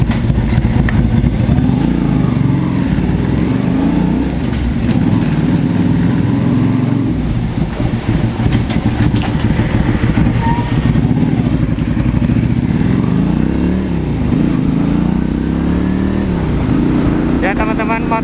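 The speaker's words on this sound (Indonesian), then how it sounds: "motor ini adalah Kaisa Ruby 250 cc" A Kaisa Ruby 250 cc Chicano-style cruiser motorcycle engine runs steadily throughout, a loud, continuous low rumble close by with a person talking over it.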